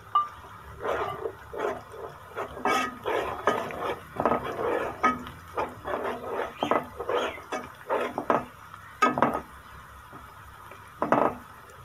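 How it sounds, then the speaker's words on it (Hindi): A spoon scrapes and knocks around a pot of frying onions and whole spices for chana dal biryani, irregular close clinks and scrapes in quick bursts over a faint background. "चम्मच इसको हिलाते रहें ताकि प्याज जो है वो जल ना जाए"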